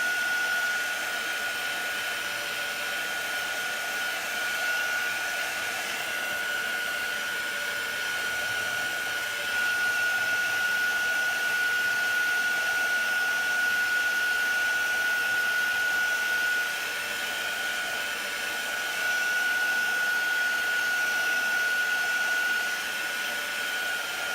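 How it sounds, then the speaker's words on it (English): A hair dryer blows continuously for the whole stretch, a loud steady whoosh with a constant high whine, no speech. "I'm half tempted to grab my hair dryer, because that'll make it go a little quicker."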